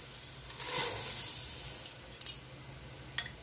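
Rice poured into a pan of sizzling garlic sets off a soft burst of frying hiss, followed by quieter crackling and a few faint stirring scrapes.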